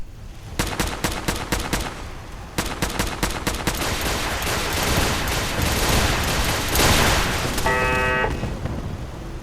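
Rocket turrets fire in the Fallout 4 video game: rapid bursts of sharp repeated shots in two volleys, then a dense rumbling barrage of explosions with a brief beeping tone near the end, loud and close.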